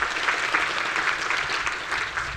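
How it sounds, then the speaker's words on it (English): An audience at a panel discussion gives panellist Cathy a round of applause: a thick, steady clapping from many people, fairly loud and unbroken, with no voices over it. "Give Cathy a round of applause"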